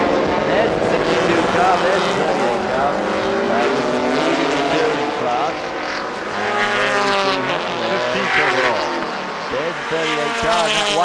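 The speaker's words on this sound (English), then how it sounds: "that white car right behind him is the 25 car of Peter Cunningham" Race cars scream past during the 1996 IMSA endurance race at Sears Point, engines rising and falling in pitch as they pass and shift, with a commentator talking over the continuous roar.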